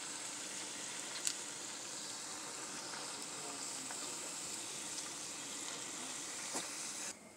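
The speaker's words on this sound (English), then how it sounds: "now you just want to get your oil heated up, and then you want to put in your onion rings" Onion rings sizzle in hot oil, a dense continuous crackling hiss with a few sharper pops scattered through, close and steady until it cuts off abruptly near the end.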